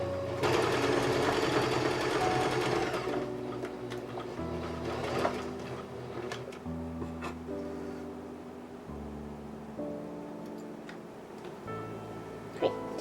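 A domestic sewing machine running a stretch straight stitch to attach frills on a ballet tutu skirt, its steady mechanical whir and tick continuing in several bursts and pauses for about thirteen seconds, close and fairly loud.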